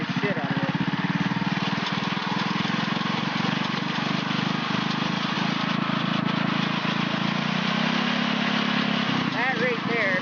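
A small mini-Baja engine revs hard toward maximum RPM, buzzing loud and continuous up close while someone talks over it.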